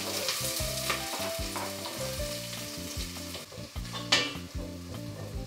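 Oil heats and sizzles in a pan, a steady close frying hiss broken by repeated rhythmic stirring scrapes and one louder burst near the end, with no talking.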